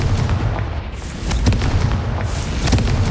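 A Confringo blasting curse from Hogwarts Legacy bursts in a dense, rumbling explosion, with several sharp blasts rising out of a steady roar over about three seconds, loud and close.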